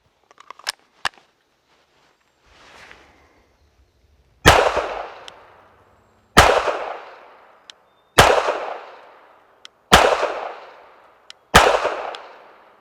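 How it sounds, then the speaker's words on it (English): Five loud pistol shots fired from an SAI Echelon at a shooting range from 15 yards, sharp cracks with ringing decays spaced about two seconds apart, preceded by a few small clicks and handling noises. "from that distance I'll try 5 shots to the body"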